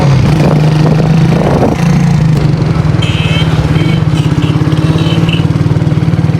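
A motorcycle engine starts with a kick and settles into a loud, close, pulsing run as the bike rides off, the steady throb continuing throughout with some background noise.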